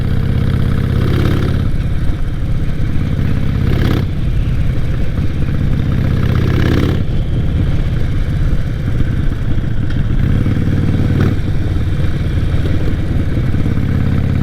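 A motorcycle with about 10,000 miles on it runs loud and close on a one-way road, its engine a continuous throbbing drone with periodic surges and no break throughout.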